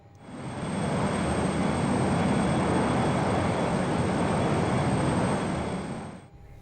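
Learjet 35A business jet descending on its glide slope in a flight simulator, a steady, loud jet engine roar and airflow rush that swells in, holds evenly for several seconds, then cuts off abruptly.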